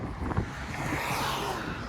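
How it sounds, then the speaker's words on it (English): A breeze blows across the microphone during an outdoor walk along Signet Drive in North York, Toronto, a soft continuous rushing of wind noise, moderately faint, without talk. "Okay, now we're getting a nice breeze here."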